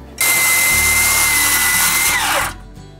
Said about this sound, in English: The last step here is to just make sure we got our 1 inch overhang, cut it off